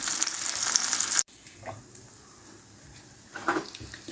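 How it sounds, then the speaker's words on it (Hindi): Bread sizzles loudly in butter and oil in a pan for just over a second, then cuts off abruptly to a quiet background with a few faint soft stirring scrapes and a brief renewed sizzle near the end. "तो थोड़ा सा फ्राई कर लेते हैं। मक्खन से इसका अच्छा सा टेस्ट आ जाएगा।"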